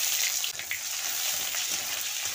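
Chopped onion frying in oil in a wok, a steady close sizzle with crackling hiss throughout and a few brief stirring scrapes, no talking.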